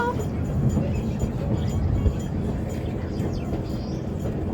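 Safari tram running along its track through a wildlife park, a steady low rumble and rattle throughout, with faint birdsong above and passengers chatting nearby.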